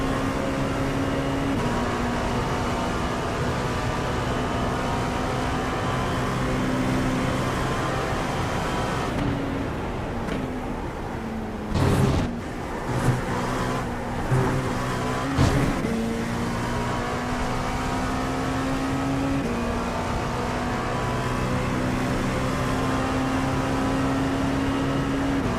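Race car engine in a sim racing video game, a steady sustained drone with tonal harmonics that shift in pitch, a few brief louder bursts midway, no talk over it.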